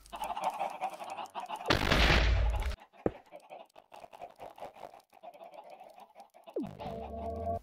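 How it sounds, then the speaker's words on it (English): Many chickens in the Minecraft video game cluck and squawk in a dense, overlapping chorus, with a loud burst of harsh noise partway through and sharp clicks, as if the sound engine is overloaded by too many birds. "Sounds like too many chickens overload the sound engine."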